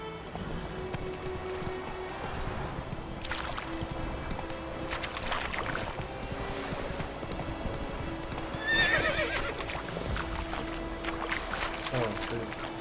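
Roach the horse in Witcher 3 whinnies once midway over steady close hoof clip-clops, with someone talking at moments.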